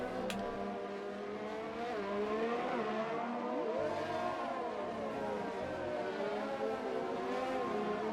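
Formula 1 race cars in F1 2020 at the Bahrain Grand Prix, engines whining and revving steadily with shifting pitch as cars pass, tyres squealing in a spin, moderately loud and continuous.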